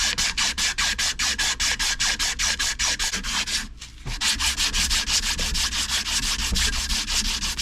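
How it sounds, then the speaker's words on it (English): An old, discarded shop hammer is sanded: a loud, continuous, rhythmic rasping of steady back-and-forth strokes close up, with one brief pause midway, and no voices. "We're gonna sand on that real quick because it doesn't need much."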